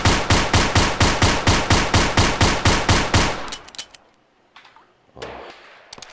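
A full magazine empties in rapid automatic fire in the VR shooting game Gun Club VR, a loud, evenly spaced burst of about a dozen shots, followed by quieter mechanical clicks and handling clatter.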